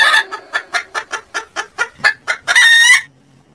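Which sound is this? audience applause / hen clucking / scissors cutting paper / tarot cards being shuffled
hen clucking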